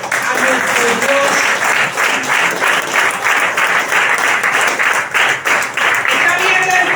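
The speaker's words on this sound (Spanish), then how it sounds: "Bríndele un fuerte aplauso a nuestro Dios." Church congregation applauding during a sermon, sustained loud clapping in uneven rhythmic bursts over about seven seconds, with some voices mixed in.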